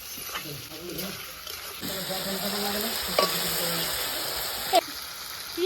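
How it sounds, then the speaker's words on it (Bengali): Onions and tomatoes frying together in a pan, a steady sizzle under a continuous high hiss, broken by scraping stirs and a couple of sharp knocks of the utensil. "এবার ভালো করে ভেজে নেবো পেঁয়াজ আর টমেটো একসাথে"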